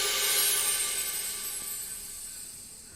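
Layered cymbal samples panned across the stereo field sound together in a pop production, a bright wash of shimmering metallic decay that swells early and slowly fades out over three seconds with no voices.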